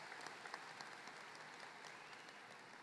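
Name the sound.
audience applause at graduation ceremony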